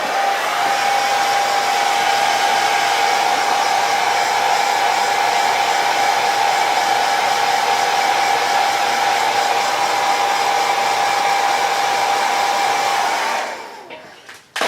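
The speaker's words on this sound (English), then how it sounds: "you can hit it with a blow dryer." A hair dryer blows steadily at close range to dry fresh paint on a garage kit resin bust, a continuous loud whine and airy rush that holds evenly for about thirteen seconds before switching off.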